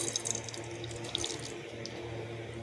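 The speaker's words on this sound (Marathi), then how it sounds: "आमचं तेल गरम झालेलं आहे. आता आपण त्याच्यामध्ये मोहरी टाकणार आहोत." Mustard seeds dropped into hot oil, a low, steady sizzle with scattered small crackles and pops, heard close and without talking.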